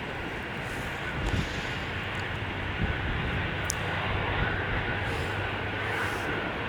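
A steady, broad jet engine rumble from a British Airways Airbus A320 or A319 taxiing to the runway at Edinburgh Airport some distance away, continuous and even throughout with no voices.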